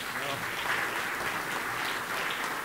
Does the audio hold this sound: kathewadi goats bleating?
no